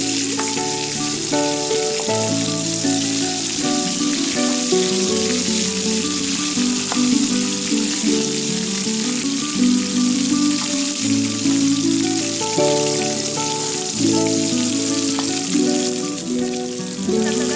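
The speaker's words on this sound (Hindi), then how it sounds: "फिश को दोनों साइड से बराबर ट्रांसपेरेंटली फ्राई करना है" Masala fish slices fry in a pan with a continuous close sizzle that holds steady throughout, alongside a sustained tonal background.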